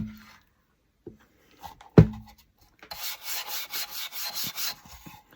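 Cloth wiping back green paint along the edges of a wooden step stool, a soft rhythmic rubbing that swells in repeated strokes after a sharp knock, close and alone.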